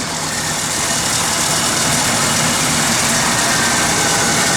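A 1967 Oldsmobile 442 V8 fires up and settles into a loud, steady idle, a dense continuous engine rumble close by with no voices over it.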